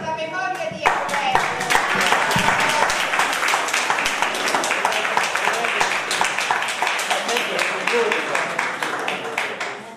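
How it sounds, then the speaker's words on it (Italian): An audience applauds in memory of a man named Alberto at a book talk in Castelluccio, with dense, sustained clapping from many hands holding steady throughout. "Un applauso alla memoria di Alberto."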